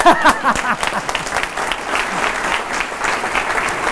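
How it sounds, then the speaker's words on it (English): Steady applause from an audience fills the clip, with dense, continuous clapping at an even level throughout. "Let's give Bob a round of applause"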